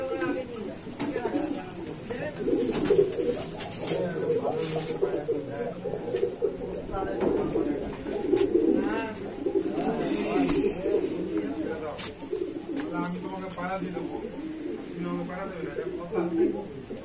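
Madrasi pigeons in a loft give off low, rolling coos that overlap almost continuously, heard near and fairly loud beneath ongoing talking.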